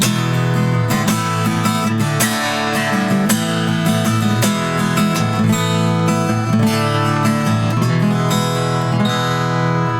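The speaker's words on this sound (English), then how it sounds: "So that is the sound of an acoustic guitar." A Dowina acoustic guitar played unplugged in a room rings out close and full, with continuous strummed and picked chords and bright string overtones sustaining throughout, and no talking.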